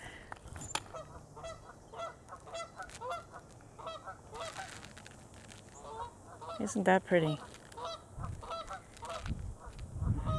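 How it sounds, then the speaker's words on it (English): Canada geese honk repeatedly at a riverside breeding ground, calls overlapping near and far in irregular bursts, with a louder cluster midway, while a person talks briefly over them. "This looks like a big breeding ground for Canadian geese"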